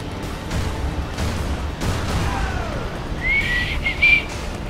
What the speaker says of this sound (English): I'm whistling again